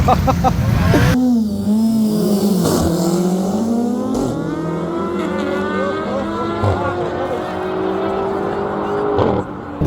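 A street racing car accelerates hard at around 180 on a European road, a loud close engine howl rising and shifting in pitch with steady wind and road roar, with a voice talking briefly at the start.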